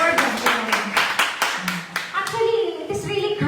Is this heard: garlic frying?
no